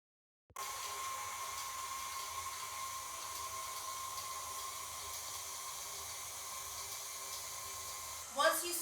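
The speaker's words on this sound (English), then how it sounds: "you're going to mix it on a medium-low speed until it's been incorporated into the butter" A kitchen electric mixer at medium-low speed, beating butter and powdered sugar, gives a steady, even motor whir with a faint hiss for about eight seconds, ending in a brief louder bump.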